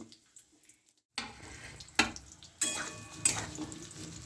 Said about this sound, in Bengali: প্রথমে আমি আলুটা দিয়ে দেবো। আলুটা একটু ভালো করে ভেজে নেব।